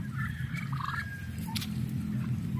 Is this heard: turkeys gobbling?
yes